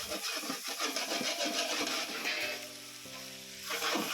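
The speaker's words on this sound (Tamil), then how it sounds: "வெங்காயம் மிளகாய் கருவேப்பிலை ஆட் பண்ணி வணக்கி விட்டுக்கலாம்" Onion, green chilli and curry leaves fry in hot oil for a mutton gravy, giving a close, bright sizzle with a low humming tone rising briefly in the middle.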